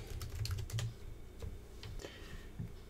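Quick, uneven keystrokes on a computer keyboard, typed close up as a search term is entered, with short bursts of clicks and brief pauses between them.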